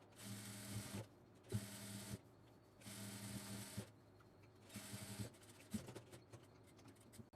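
Indian sewing machine stitching the middle seam of a bootcut pant, running in four steady bursts of about a second each with short pauses between, close and clear with a mechanical clatter.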